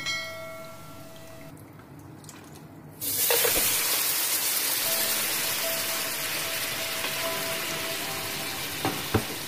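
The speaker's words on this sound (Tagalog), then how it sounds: "ilagay na natin una ang karne" Meat for rice biryani laham goes into a hot pan after a few quiet seconds, setting off a sudden loud, close sizzle that holds steady and hissing until the end.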